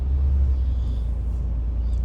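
Traffic jam on Jalan Antasari: a steady, close low rumble of idling and slow-moving cars fills the scene continuously, with no talking.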